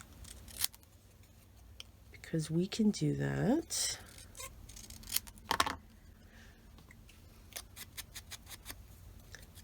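Scissors snip through a paper number for a scrapbook belly band: a few quick crisp cuts, close and clear, between stretches of quiet, with a voice speaking briefly.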